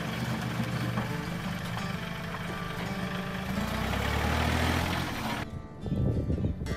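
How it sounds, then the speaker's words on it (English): A tractor hauling heavy loads over steep mountain ranch terrain, a continuous low engine drone that swells and strains midway before cutting off abruptly, then resumes with rougher noise. "the tractor makes easy work of hauling heavy loads up and down the mountain"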